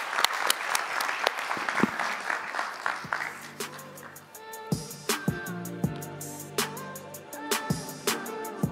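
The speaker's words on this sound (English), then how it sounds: "Can we give another round of applause to our amazing, amazing panel, Ron and Art and Harold?" An audience applauds a panel at the close of a fireside chat event, a loud burst of clapping that tapers into scattered, sparser claps, with brief voices mixed in.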